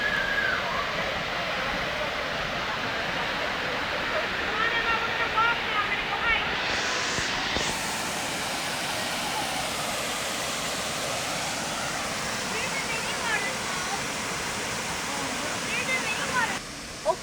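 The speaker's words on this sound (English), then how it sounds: "now that you've seen the waterfall, we will now walk to the hiking point" The Waterfall Glen Forest Preserve waterfall in Lemont, Illinois, roars as a constant broad rush of falling water, steady and close for the whole stretch, with occasional faint handling noise.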